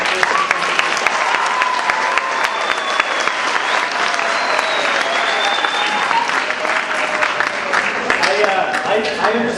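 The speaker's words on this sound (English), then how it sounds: "give a round of applause for everyone who is going to do that" A sustained round of applause fills a closing-ceremony hall, dense steady clapping from a large crowd lasting throughout, with occasional cheers and whoops mixed in.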